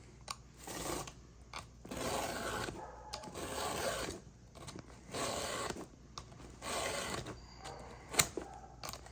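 Hand file sharpening a chainsaw chain, a quiet rasping scrape repeated in a steady rhythm of about six strokes, each a second or so long, with short pauses between and one sharp click near the end.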